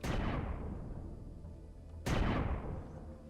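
Two sharp booming shots from a cannon drone in the video game Empyrion Galactic Survival, one at the start and another about two seconds later, each decaying into a rumbling tail.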